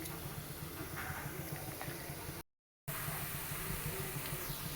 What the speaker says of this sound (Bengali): এখানে আরও কয়েকটা ভেজে নিলাম।